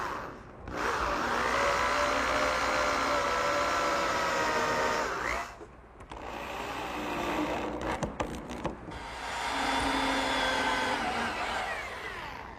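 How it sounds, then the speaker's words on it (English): Power driver running screws into the edge of a workshop counter, in two long continuous whirring bursts with a short pause of clicks between, loud and close. "I'm just going to put 4 screws down each edge."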